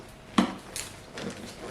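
Airtight plastic pet food dispenser with dry food inside snapping shut, one sharp click followed by a faint rattle and shuffle, close and fairly quiet.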